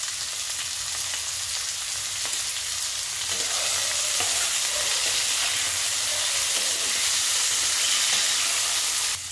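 Vegetable stalks and potatoes fry in a pan for a fish curry, making a dense continuous sizzle and hiss that grows slightly louder partway through, with occasional stirring scrapes and no talking.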